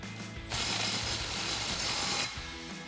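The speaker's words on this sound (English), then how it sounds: "So we'll match that taper and then we'll tighten down our clamp." Ratchet tightening an exhaust clamp on a Ford F-150 EcoBoost exhaust system, a quick run of fast clicking that lasts nearly two seconds between quieter moments, close and clear with no talk.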